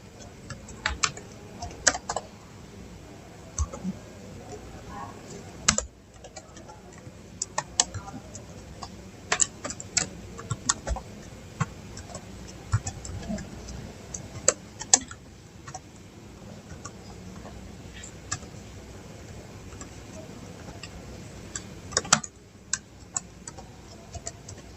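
Someone typing a Java Hello World program on a computer keyboard in a long run of soft, irregular key clicks with occasional louder strikes, close and steady under a faint background hum.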